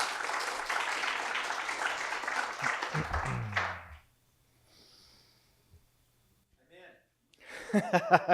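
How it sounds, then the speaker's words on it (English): An audience applauds at a startup pitch event in Burbank, a burst of steady clapping for about four seconds that stops abruptly, followed by near silence and then a voice starting to talk. "Round of applause, please."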